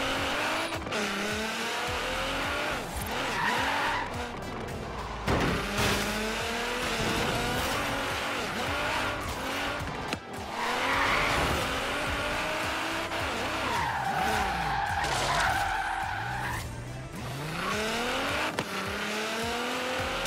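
A car in Forza Horizon 3 drifts through a city with long, wavering tire squeals rising and falling over a revving engine, continuous and close, with no talking.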